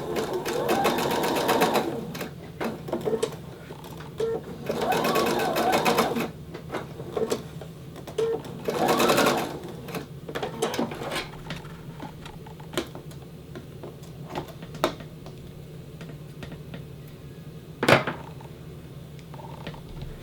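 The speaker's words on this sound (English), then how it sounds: "I'm just going to stitch it on the sewing machine" A sewing machine runs in several rapid stitching bursts separated by pauses, with faint handling clicks and a sharp tap near the end.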